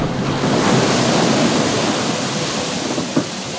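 A racing yacht in the Southern Ocean is surrounded by strong wind and crashing waves, a loud dense roar of rushing water and gusts that stays constant, with a brief thump near the end.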